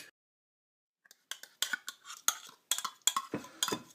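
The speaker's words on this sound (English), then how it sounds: "Now we're adding a can of these green chopped chilies." Canned chopped green chilies are spooned into guacamole, giving a run of quick scraping, clinking spoon-against-can and bowl sounds after a brief silence, close and fairly crisp.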